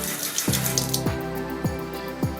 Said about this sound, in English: You can add just a tad bit of water